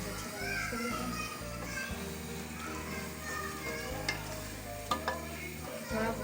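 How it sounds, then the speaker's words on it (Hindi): Chickpeas sautéing with green chilli and chopped ginger in a pan, a soft, low sizzle with occasional clinks of stirring, partly under voices, including a child's. "थोड़ा सा भून लेते हैं।"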